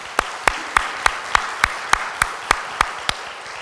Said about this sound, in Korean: 큰 박수로 감사드리도록 하겠습니다